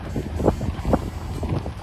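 Wind buffeting the microphone in low, rumbling gusts among mountains in Denali National Park, Alaska, close and fairly loud for a couple of seconds.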